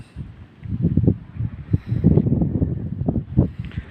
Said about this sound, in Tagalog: napakalakas nga po ng padpad ng hangin